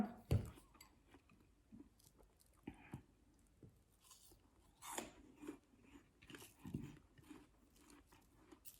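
Crisp apple dipped in chili salt is bitten and chewed up close, with a sharp crunch at the start followed by quieter, intermittent munching and faint soft voices.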